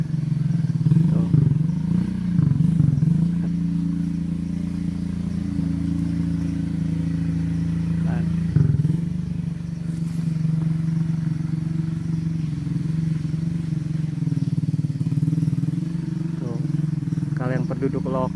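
Motorcycle engine labouring on a steep, slippery rural slope, a continuous mid-loud droning hum with brief revving surges, a voice talking over it at times.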